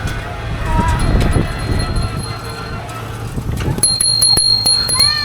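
A bicycle bell rings on an electric bicycle ridden through the streets of Naples, sounding as a few bright repeated dings near the end over street noise and a continuous low rumble.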